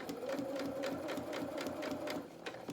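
A sewing machine runs steadily, stitching fabric for a floppy-eared bunny Easter treat bag, a quiet close-up rattle of rapid needle strokes.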